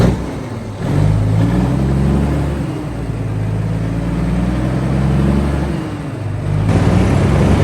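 An old Mack truck's high-speed direct engine revs with a steady low droning rumble that swells and eases, loud and close, with no voices.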